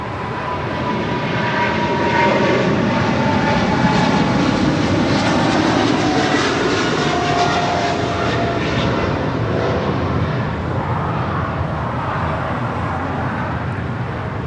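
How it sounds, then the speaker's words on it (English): A China Cargo Airlines Boeing 777 freighter departs LAX, its heavy engine roar loud and continuous, swelling toward the middle and then slowly easing. "This is China Cargo Airlines, Cargo King 224 departing to Shanghai on a 777 freighter"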